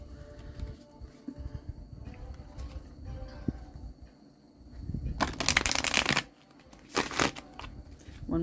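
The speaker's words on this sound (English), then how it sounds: "One more shuffle on the cat deck." A deck of cat-themed cards is shuffled with two loud riffling bursts near the end, after several seconds of soft handling and rustling.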